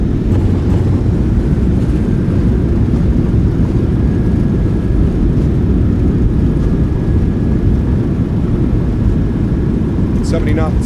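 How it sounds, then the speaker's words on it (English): Thrust reversers of a PMDG 737-700 roar during landing rollout at Burbank in a flight simulator, a loud steady broadband engine rush filling the cabin, with a brief faint chime near the end. "Reversers are out."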